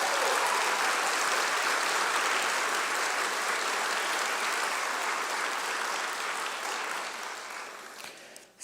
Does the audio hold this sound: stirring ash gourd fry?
no